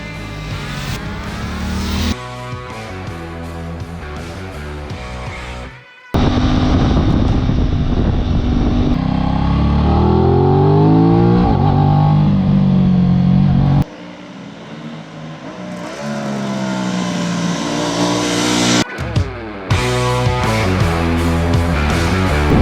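A 2020 Aprilia RS 660 motorcycle engine revs hard, its loud, sustained roar rising and falling through repeated throttle blips, with brief dips between bursts and no talking.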